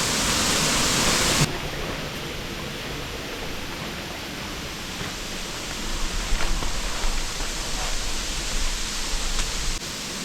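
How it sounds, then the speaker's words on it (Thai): A tall forest waterfall roars as a steady, dense rush of falling water, close and continuous, with a brief brighter hiss at the start. "น้ำตกก็คือสูงมากนะครับ"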